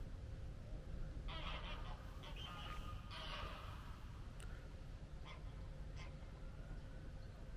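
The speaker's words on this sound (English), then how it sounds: "The rasping cry of the greylags." Greylag geese give rasping honks beside a lake on a university campus, a few calls standing out at moderate distance over steady low outdoor rumble.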